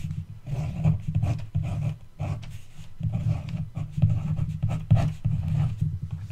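A pen scratches out an OR gate diagram in a run of short, close strokes with brief pauses between them, steady and fairly quiet.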